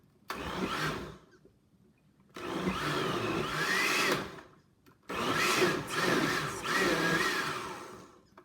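A blender whirs through paper pulp in three pulsed bursts, one short and two longer, each a loud grinding motor roar separated by brief quiet gaps.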